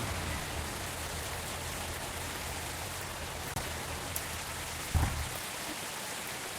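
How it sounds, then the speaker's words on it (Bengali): Heavy rain pours down in a thunderstorm during a drive, a dense, steady hiss of rain on the surfaces around, with a couple of brief thumps. "হেব্বি জোরে বৃষ্টি হচ্ছে ভাই"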